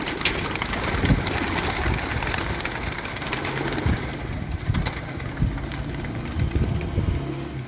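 Pigeons, a flock of tumbler-type fancy pigeons in Multan, coo softly and repeatedly amid a busy, noisy background with some distant traffic.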